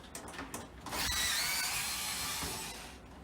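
A CPU cooler fan is worked loose from a computer motherboard, producing close scraping and clicking mechanical noises with a sustained rasping stretch in the middle.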